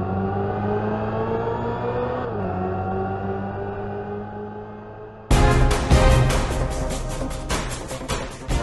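A 2025 Hyundai IONIQ 5 N electric car plays a synthetic engine sound while accelerating. A smooth humming tone rises and dips, then cuts abruptly into a louder, brighter, rasping burst with rapid pulsing shifts.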